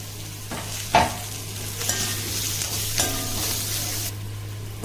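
Green chilies and curry leaves sauté in a hot pan, a steady low sizzle with a few sharp spatula scrapes and taps against the pan at close range, no voices.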